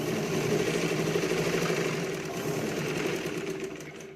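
A sewing machine runs steadily for a few seconds, stitching blouse lining to the main fabric of a katori blouse, a close continuous motor whir that eases off toward the end, with no talk.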